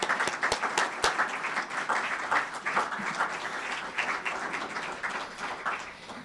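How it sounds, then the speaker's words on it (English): Audience applause at a Michigan golf Hall of Fame induction program, a hall full of clapping with some sharp, close individual claps at the start before settling into an even, sustained round. "So let's do a round of applause for Loretta."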